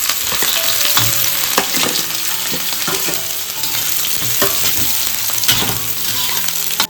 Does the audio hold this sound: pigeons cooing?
no